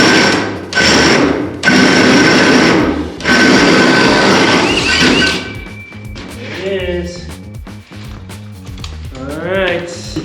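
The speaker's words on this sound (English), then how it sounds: "we're gonna start drilling some holes" A power drill bores holes for plumbing in an off-grid cabin under construction, heard as loud bursts of whirring and grinding with pauses between, then quieter handling noises and a person talking.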